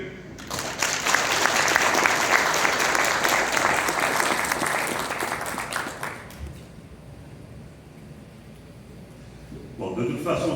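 A crowd gives loud, dense applause at a graduation ceremony in a hall for about six seconds. It fades to quiet murmuring, and clapping picks up again at the end.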